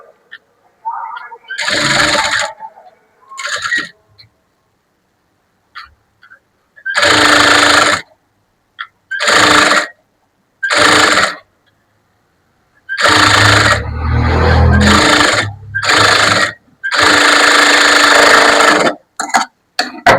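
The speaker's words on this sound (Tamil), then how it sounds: "கூட ஒரு தையல் போட்டுக்கணும்." Sewing machine stitching a blouse, with loud, close bursts of running stitches that start and stop repeatedly, several short runs and a few longer stretches separated by silent pauses.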